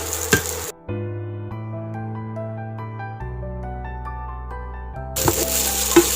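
Chopped onions hit a hot pan with a sharp hissing sizzle. The sizzle is cut off by a stretch of soft melodic music, then returns loud and close at the end.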